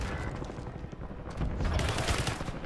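Gunfire crackles in Call of Duty Warzone at Verdansk, a dense ragged fusillade of rapid shots and booms that swells louder toward the middle and continues without pause.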